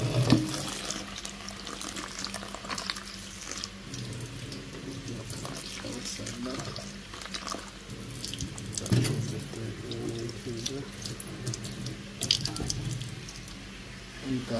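Water running steadily from a tap, a continuous splashing stream with faint background movement and occasional clinks.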